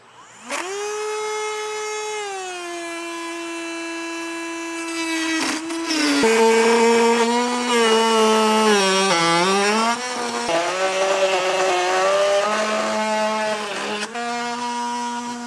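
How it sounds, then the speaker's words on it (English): A rotary tool fitted with a cutting blade slices through metal at the trailer hitch receiver area of a 2017 Audi Q7, giving a loud, steady high-pitched whine whose pitch dips and wavers as the blade bites, with no talk. "I'm going to use a rotary tool with a cutting blade on it."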